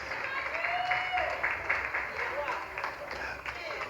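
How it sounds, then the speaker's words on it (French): Applause from an audience at an awards ceremony, a fairly faint, continuous patter of clapping with a voice over it. "Un tonnerre d'applaudissements pour Papa Serge"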